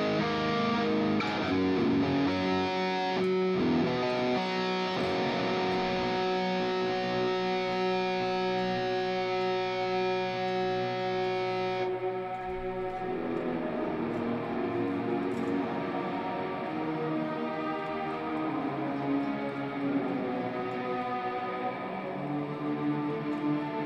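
Electric guitar played through a Hotone Ampero Stage II with reverb and delay effects: sustained chords ring out into long echoing tails, loud and washy, then thin into a softer trailing reverb wash with no voices.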